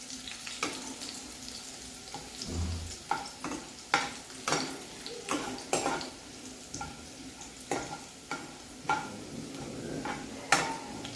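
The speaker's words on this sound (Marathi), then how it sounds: "मी आता पूर्णच लसूण टाकते आहे. तो आपल्याला थोडासा लालसर करून घ्यायचा." Garlic fries in a pan for lasooni palak, a steady close sizzle broken by repeated scraping stirs and light utensil clinks against the pan.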